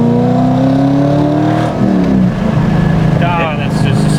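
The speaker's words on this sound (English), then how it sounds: "I want to listen to the V8 though." A 2003 Corvette Z06 with a modified LS6 V8 accelerates hard through the gears, its loud, close engine drone climbing in pitch before a brief shift break and a renewed pull, with a voice speaking briefly.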